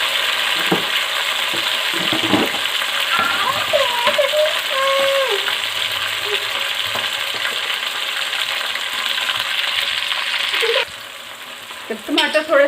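Onion frying in a pan for chicken karahi with chopped tomatoes going in, a continuous loud sizzle with occasional stirring scrapes and clinks, while someone speaks over it.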